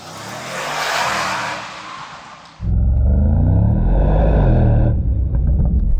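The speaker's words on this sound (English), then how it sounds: "you'll hear the V8 engine with a little mix of AMG electrification performance sound" A Mercedes-AMG GT63 S V8 engine with hybrid electrification idles with a broad rumble, then roars louder as it revs and accelerates, a deep steady growl filling the remaining seconds.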